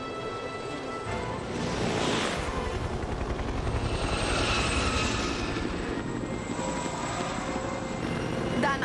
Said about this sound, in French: un des hélicos des Barracudas se dirige vers les Rangers